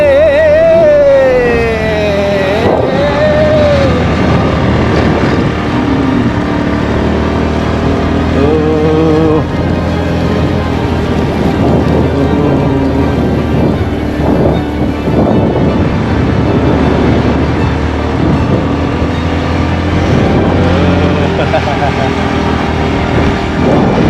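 Motorbike ride on Koh Si Chang island in Thailand, a steady loud engine drone with wind buffeting running throughout, while people talk and call out over it.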